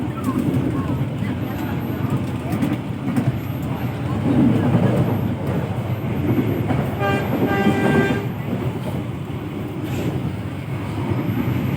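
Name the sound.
Bengawan passenger train in Indonesia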